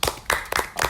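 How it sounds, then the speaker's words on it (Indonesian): About four quick, close hand claps ring out in a short burst as an Indonesian podcast episode wraps up. "Tepuk tangan, tepuk tangan."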